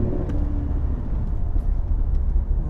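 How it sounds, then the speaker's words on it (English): A 2007 Mercedes S550 engine with 100K miles hums and rises smoothly as it accelerates, a steady low rumble with road noise and no talking. "This engine is so buttery smooth."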